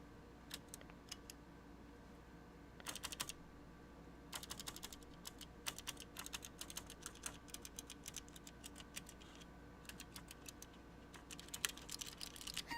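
Fingers tap out bursts of fast, clattery keystrokes on a bare Apple IIc keyboard with no keycaps, with short pauses between runs, close by and fairly quiet.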